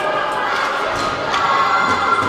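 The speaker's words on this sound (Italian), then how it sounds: "Tifo che incita i giocatori" An ice hockey crowd at a Serie C game in an arena keeps up a dense wall of cheering and shouting for the players, loud and continuous throughout.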